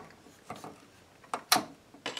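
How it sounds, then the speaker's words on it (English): Corded Venetian window blind lock mechanism catching as the string is pulled, a few soft, sparse clicks and rattles with one sharper snap near the middle, faint and close. "listen for the click, and then lower it down"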